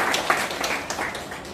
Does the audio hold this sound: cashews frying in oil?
no